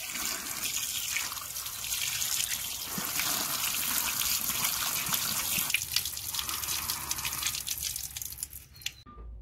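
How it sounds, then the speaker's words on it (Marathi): Tap water runs steadily while potatoes are washed in a Kokan home kitchen before being boiled for wafers, a continuous close splashing stream that cuts off abruptly near the end. "मी आता बटाटे आधी धुवून घेते"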